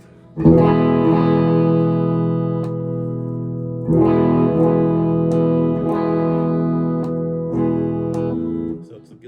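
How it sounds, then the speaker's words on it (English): Sustained guitar chords strummed three or four times through a bypassed preamp, each ringing out fully with a slightly dull, dark tone; no voices. "I'm gonna lower the MIDI control volume to 0, and you'll hear a difference."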